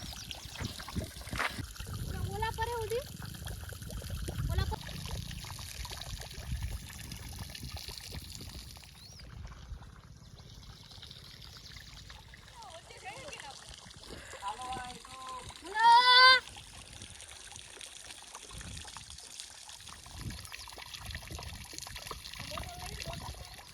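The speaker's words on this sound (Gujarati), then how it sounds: "અહીંયા પાણી મસ્ત આવે છે" Water runs through a farm near a soybean field, making a steady trickling, splashing flow under ongoing conversation, with one brief louder splash partway through.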